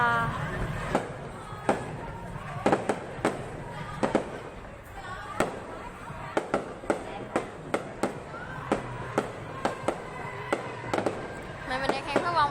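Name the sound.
New Year's Eve fireworks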